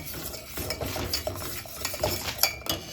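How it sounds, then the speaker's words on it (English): A sweet mixture is stirred in a pot with a utensil, giving soft scraping and light clinking that come in an irregular rhythm, close and fairly quiet, with no voices. "You got to keep stirring it, stirring it, stirring it. You don't want it to burn."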